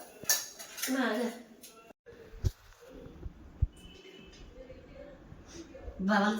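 Metal spoons clinking as they are handed over, a few sharp scattered clinks with soft rustling between them.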